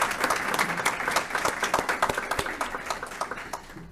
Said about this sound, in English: let's have a big round of applause for our planning committee.